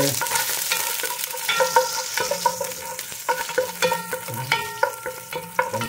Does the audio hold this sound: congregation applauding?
no